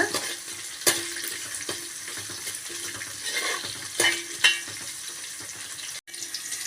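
Large onions and curry leaves frying for a fish curry give a constant, moderately loud sizzle, punctuated by occasional spatula clinks and stirring scrapes.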